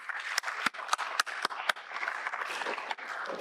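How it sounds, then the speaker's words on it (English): An audience at a Dayananda Sagar Institutions talk in Bangalore applauds: a handful of distinct, separate claps first, then thickening into a softer, continuous patter of many hands at moderate distance. "A big, great round of applause to Radheshyam Swamiji."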